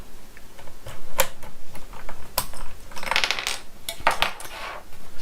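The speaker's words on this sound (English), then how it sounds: "Let's just take one of the keycaps off, and we will have a look what's underneath." Plastic keycap pried off a Keychron K8 mechanical keyboard with brown switches, giving several sharp clicks and clatters up close, with a short rattling burst in the middle and no talking.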